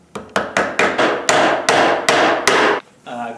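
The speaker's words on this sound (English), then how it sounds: "If you want to go retro, you can use the old hammer and nail." A hammer drives a nail with eight or so sharp, evenly spaced strikes, loud and close, each one ringing briefly before the next, with no voices.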